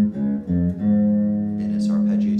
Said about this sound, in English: So I'm going to be playing a major chord